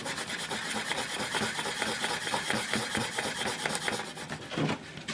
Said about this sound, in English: now I'm going to take some steel wool.